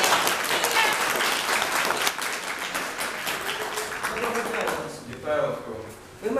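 Audience applause fills a school theatre performance at the Kostiantynivka gymnasium: dense, steady clapping throughout, thinning slightly near the end, with voices speaking over it.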